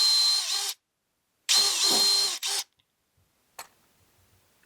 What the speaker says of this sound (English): Just put a little pilot hole, not all the way through.